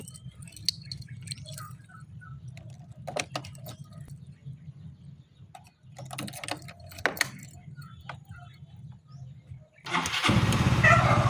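A Yamaha Mio MXi 125 FI motor scooter engine putters unevenly at low volume with clicks and knocks, then revs up loudly near the end.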